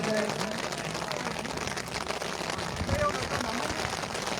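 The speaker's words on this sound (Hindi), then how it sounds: "बारिश भी आ चुकी है" Rain falling during an outdoor tape ball cricket tournament match in Pakistan: a steady, dense hiss of drops that fills the whole stretch, with faint voices mixed underneath.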